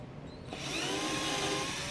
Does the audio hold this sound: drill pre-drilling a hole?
yes